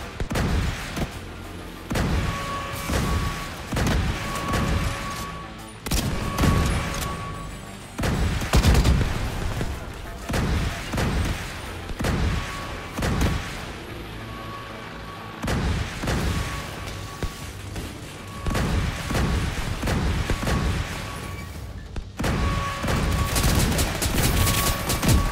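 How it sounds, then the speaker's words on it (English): Missile turrets in The Division 2 fire in dense, repeated volleys, with heavy booms and crackling gunfire layered throughout, loud and continuous with only brief gaps and no voices. "Missile turrets activated."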